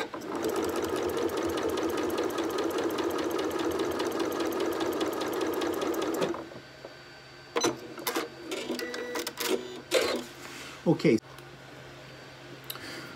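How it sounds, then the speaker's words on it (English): A sewing machine runs fast and steady, stitching fabric squares along an edge guide for about six seconds, then stops, followed by scattered clicks and handling noises with a voice speaking in between. "I'm going to sew using the edge guide"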